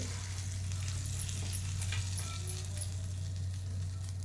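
Hot tempering poured over a cup of rice, a steady crackling sizzle with sharp pops scattered throughout over a constant low hum, close and moderately quiet, no talking.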